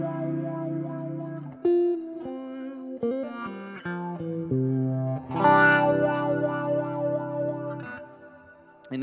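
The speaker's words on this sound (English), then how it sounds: "that replicates the old analog wah pedal that I used to have" Electric guitar played through a Fender Tone Master Pro wah effect modeled on an old analog wah pedal, a sequence of sustained notes and chords with sweeping, vocal-like tonal shifts, loud and close with no talking.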